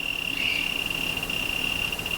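A steady, high-pitched chirping whine from a broken Trotter electric skateboard wheel, close and continuous like a cricket, with a faint rumble underneath.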